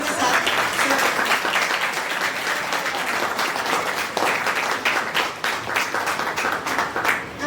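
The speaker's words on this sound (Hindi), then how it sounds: "उनका जोरदार तालियों के साथ" Enthusiastic audience applause at St. Anthony's feast in Anand Gram, Delhi: a crowd claps loudly and steadily for several seconds, with individual claps standing out near the end.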